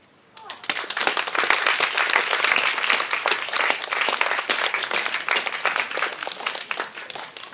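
A poetry reading audience applauds steadily for several seconds, a dense wash of many hands clapping, loud and sustained after a brief quiet start.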